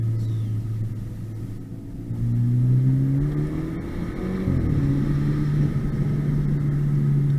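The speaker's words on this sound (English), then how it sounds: "that turbo sounds nice" A full-bolt-on turbocharged BMW 328i sleeper accelerates on a road, its engine rising in pitch through a sustained rev with a brief dip and shift near the middle before pulling steadily again, loud and close from inside the car.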